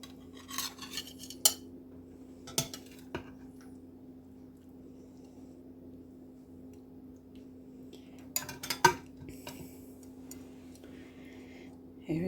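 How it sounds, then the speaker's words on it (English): Spatula and a small plate picked up in a quiet kitchen, a few scattered light clinks and taps of utensils, clustered at the start and again later, over a steady low hum. "Let me get a spatula and a little plate and show you what it looks like."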